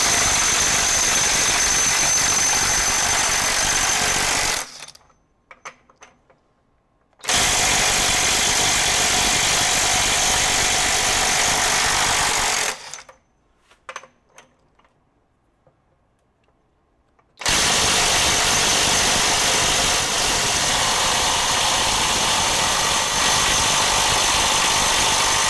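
Long bursts of loud, harsh mechanical hammering from a cordless mid-torque impact wrench on a bolt at 500 foot-pounds, stopping twice for a few seconds of near silence before starting up again.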